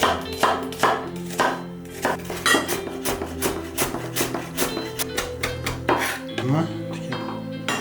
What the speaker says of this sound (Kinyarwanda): Tugiye gutangira nkata igitunguru